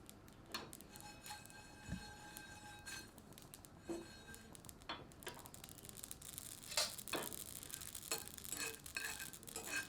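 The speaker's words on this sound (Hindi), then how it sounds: "आंच मध्यम करके इन सबको थोड़ा सा भूनते हैं।" Stone flower, poppy seeds and dried red chillies dry-roasting over medium heat in a pan, with a faint sizzle and scattered scraping stirs and light ticks, quiet and close, no talking.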